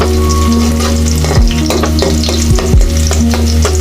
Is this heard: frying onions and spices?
yes